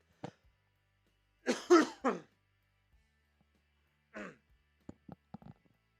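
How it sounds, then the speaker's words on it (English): Several coughs and throat-clearing bursts come in clusters, close and fairly quiet, followed by short sharp rasps. "I appreciate everybody that stuck around through my annoying coughs"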